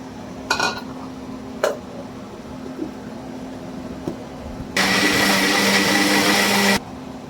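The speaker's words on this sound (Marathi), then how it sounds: "आता हे वाटून घेऊया आपण." A kitchen mixer grinder blends mango pieces for homemade ice cream, running as a loud, steady whirring burst for about two seconds after a few light clinks of utensils, then stopping abruptly.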